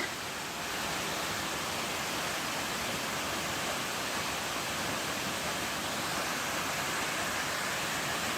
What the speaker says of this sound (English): And this waterfall is gigantic.